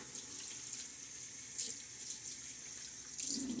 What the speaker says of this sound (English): Let's do some rinsing and cleaning up.